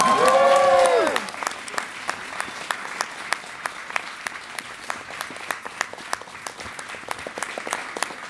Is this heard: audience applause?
yes